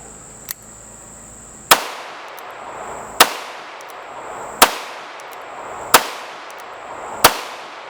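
Shots from an NAA Sentinel .22 Magnum mini revolver, five sharp, loud cracks spaced about one and a half seconds apart, each followed by a brief echoing tail, after a faint click near the start.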